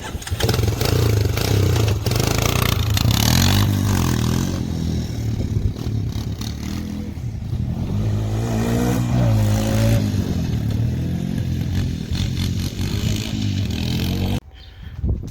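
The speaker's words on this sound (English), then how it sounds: "if you try to gas, it'll do a lot better, but it still bogs out when you try to like do a wheelie" A damaged motorcycle engine revving loudly and close, rising and falling with rough, uneven bogging and clattery sputters, running continuously before cutting off abruptly near the end.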